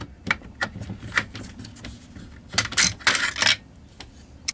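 Romanian AK-47 rifle parts, including the dust cover, recoil spring, guide rod and bolt carrier, are removed and handled, giving close, irregular metallic clicks, clacks and scrapes with brief louder rattles.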